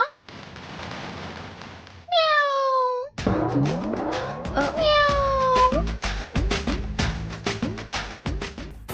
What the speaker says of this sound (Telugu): పిల్లి లోపలికెలా వచ్చింది?